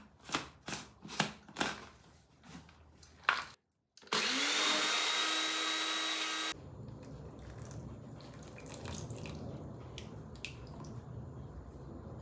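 Biscuits being crushed for a no-bake strawberry cheesecake base: several sharp crunches, then a loud blender-like grinding whir for a couple of seconds, followed by softer rustling and scraping of the crumbs.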